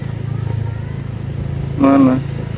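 A motorcycle idles close by with a steady, low, pulsing thrum, and a brief voice cuts in over it midway.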